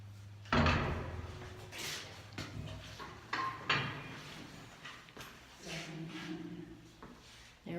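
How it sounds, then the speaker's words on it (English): A heavy metal submarine-style door on an execution chamber is worked open and shut, giving clunks, scrapes and thuds in an echoing room, with faint voices in the background. "So there is this amazing submarine door"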